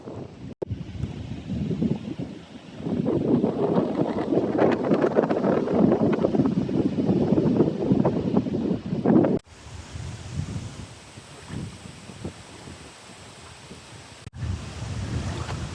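Strong gusting wind blowing over an open lake in Michigan's Upper Peninsula wilderness, a loud broad roar with rustling and buffeting on the microphone, easing off partway through, with no talking.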